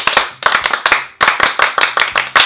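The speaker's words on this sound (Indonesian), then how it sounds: "Tepuk pramuka." A group performs the Indonesian scout clap (tepuk pramuka), a close, loud rhythmic pattern of sharp unison hand claps in quick bursts with brief pauses between phrases.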